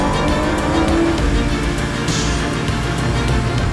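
A Lamborghini convertible's rear-mounted engine runs with a steady loud hum and road rumble while driving along the Costa del Sol, continuous throughout.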